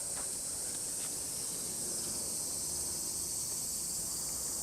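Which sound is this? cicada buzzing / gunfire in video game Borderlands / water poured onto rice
cicada buzzing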